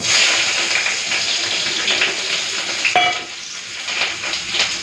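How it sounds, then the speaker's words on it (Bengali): Masoor dal being tempered with onion, green chili and panch phoron, a steady loud sizzle of hot oil with stirring scrapes throughout, while fish fries alongside in the kitchen. "আমি এইদিকে মসুর ডালটাকে সাঁতলে নিই।"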